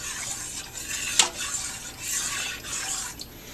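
A spoon stirs a homemade liquid laundry detergent mixture in a pot, making soft, close swishing and scraping with one sharp metallic clink against the side early on, and no voices.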